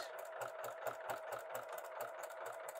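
A home sewing machine stitches steadily around the edge of pajama fabric, about an eighth of an inch in, its needle thumping in a fast even rhythm with a continuous motor whir close by.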